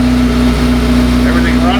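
A C8 Corvette Z06 with an Eventuri intake runs steadily at idle, a constant close engine drone with a strong low hum, while someone talks over it.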